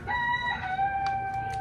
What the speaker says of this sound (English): That stupid rooster is the reason why I woke up 6 o'clock in the morning today.